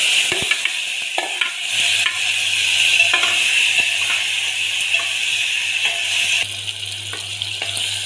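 Chopped tomato drops into a hot pan with cumin for white bitter gourd, bursting into a loud steady sizzle with scraping stir strokes throughout, a low hum underneath and a slight drop in intensity near the end.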